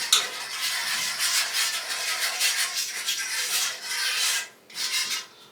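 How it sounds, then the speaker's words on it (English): A spoon scrapes and rubs around a pan of sausage gravy as milk is stirred in and heated, in steady close strokes with a brief pause near the end. "Just stirring, getting the milk heated up."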